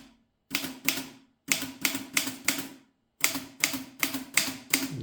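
An Erika 10 manual typewriter clacks in short bursts of sharp key strikes, several quick hits in each group separated by brief pauses, close and distinct with no talking.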